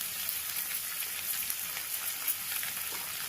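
Sliced onions fry in a hot pan with steady, close sizzling and crackling, a continuous hiss of oil that stays even throughout with no talking.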